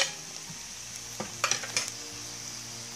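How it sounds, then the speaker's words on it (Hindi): Chopped onion is stirred into a simmering veg manchurian gravy, making a steady sizzle broken by a cluster of metal scrapes and clinks against the pan near the middle, with no talk. "अब मैंने इसमें मिला दिया है कटे हुए प्याज"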